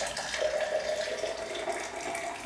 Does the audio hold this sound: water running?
yes